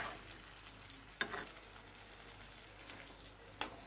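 Kabuli chickpeas mixed with spices in a pan, a quiet soft sizzle with two brief scraping stirs of a spoon.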